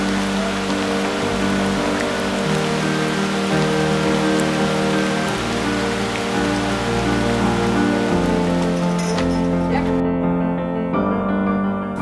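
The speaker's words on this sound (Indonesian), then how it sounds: "Jadi kalau hujan seperti ini, terpaksa kegiatan dihentikan dan menunggu sampai matahari muncul kembali." Rain falls steadily on a remote village, a constant patter under a strong tonal background of music that carries on throughout.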